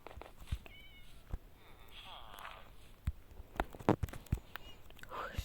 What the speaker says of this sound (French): le petit chat ne veut pas rentrer